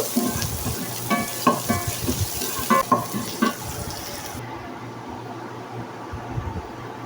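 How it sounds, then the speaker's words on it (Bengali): Onion and garlic fry in a pan for a coconut chicken curry, with a continuous close sizzle and a few scraping stirs, then the frying settles into a steady hiss. "সঙ্গে পেঁয়াজ দিয়ে দিয়েছি আর রসুন দিয়ে দিয়েছি একটু ভেজে নেব"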